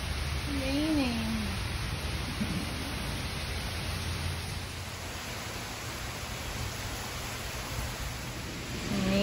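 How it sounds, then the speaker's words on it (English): Heavy rain pours down near a bridge in West Palm Beach during a thunderstorm, a dense, even hiss that fills the whole stretch, with brief voice sounds at the start and end. "Started pouring with rain as soon as we got to the bridge."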